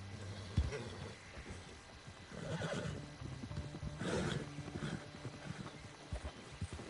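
A horse whinnies loudly around the middle, with hoofbeats and clopping scattered through a busy outdoor soundscape in the video game Red Dead Redemption 2.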